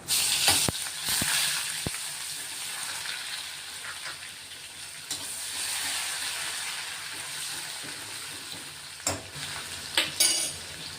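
Chili-garlic paste and curry leaves hit hot oil with cumin for a tempering, giving a soft continuous sizzle with a few sharp crackles and stirring scrapes, fairly close and quiet.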